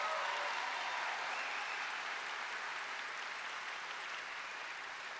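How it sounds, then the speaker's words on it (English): Sustained applause from a school audience in a high school auditorium, a steady, even wash of clapping that holds throughout and fades slightly toward the end, with no voices over it. "Please give Doreen Agnew a big round of applause"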